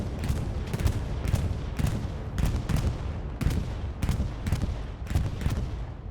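Gunfire in a World War II-style online battle game around St. Mère-Église: a string of about a dozen evenly spaced, sharp bursts, moderately distant and fairly quiet, with no talking.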